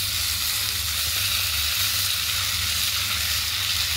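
Maggi noodles sizzle steadily in a hot pan at home, a dense, continuous hiss close to the microphone with no talking.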